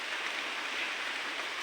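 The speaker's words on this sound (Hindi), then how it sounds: "जोरे वर्षा है सबुआड़े खाली वर्षा" Heavy rain pours down in a dense, even hiss, loud and continuous with no pauses or voices.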